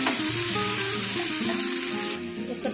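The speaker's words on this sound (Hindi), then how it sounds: "अब हम इसमें एक टमाटर डाल देंगे, टमाटर को भी कुछ देर के लिए फ्राई करेंगे।" Tomato and carrot fry in a pan for chow mein, giving a steady, close, continuous sizzle throughout with no talking.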